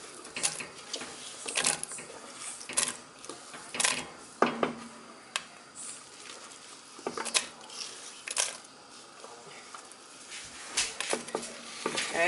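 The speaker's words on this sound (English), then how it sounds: "we're going to add all the onions in here" Onions tumbling into a pot of olive oil over medium-low heat for French onion soup, irregular close clatters and thuds of handfuls dropping in, with clinks of utensils and a faint low sizzle between.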